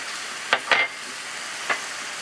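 Beef tips frying in a pan with garlic salt, a steady close hiss of sizzling broken by a few sharp spatters and stirring scrapes.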